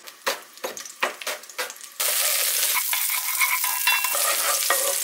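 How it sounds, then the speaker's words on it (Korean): Garlic sizzles and crackles in hot oil while cooking ratatouille, a steady frying hiss after a few scraping stirs at the start, close and fairly loud. "아까 처음 썰어 놓은 마늘을 볶아줄게요"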